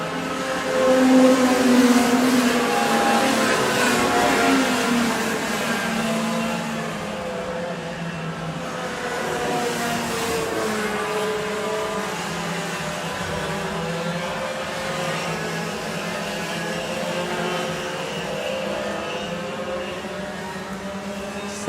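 Racing karts in a Senior class race at the Clay Pigeon Kart Club come down the main straight, their engines droning as a sustained, moderately loud buzz from some distance.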